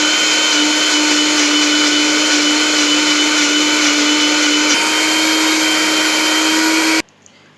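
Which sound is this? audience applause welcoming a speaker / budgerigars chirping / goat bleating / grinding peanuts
grinding peanuts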